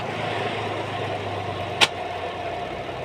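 A reassembled washing machine dryer motor hums steadily and quietly, a low even drone with one brief sharp click or tick partway through.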